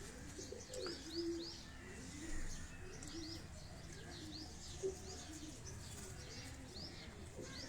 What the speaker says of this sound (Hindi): ये टैडी ब्रीड का कबूतर है।